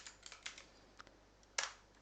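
Typing on a computer keyboard: a quiet, uneven run of clicks and taps close by, with a short pause and then a final louder burst of key presses.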